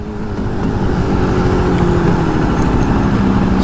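A Jawa Perak motorcycle rumbles steadily while being ridden, a loud, close, low-pitched engine thrum that grows slightly after the first second and holds even throughout.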